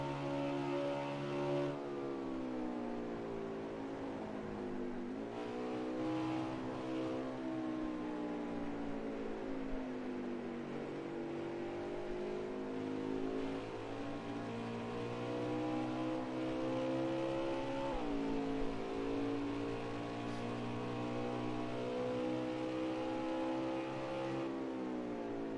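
Racing trucks at Watkins Glen speedway, a continuous roar of engines with rising and falling pitch as they accelerate and pass, steady and fairly distant, with no talk.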